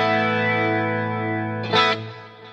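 Electric guitar run through tri-stereo chorus, reverb and delay for an 80s tone: a shimmering sustained chord rings out, then a brighter strum near the end trails off in a wash of echoes, with no voice.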